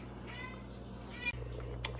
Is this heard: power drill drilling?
no